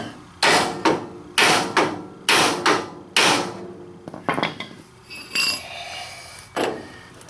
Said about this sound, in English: see if the hammer will let it pop